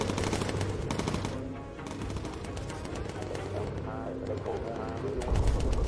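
Bomber gunners fire in the Bomber Crew aerial combat game, giving rapid rattling bursts of machine-gun fire in quick runs, close and prominent, with people talking over and between the shots.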